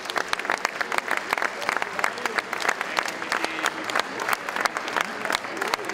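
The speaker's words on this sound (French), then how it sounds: "on les applaudit" An audience at a rugby league tribute event applauds warmly, dense sustained clapping from a crowd with sharp individual claps standing out throughout, without speech on top.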